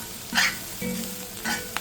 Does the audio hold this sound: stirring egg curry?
yes